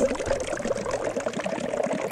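Sauce pours steadily over wild boar sashimi, a continuous close liquid splash and trickle lasting about two seconds with no talk.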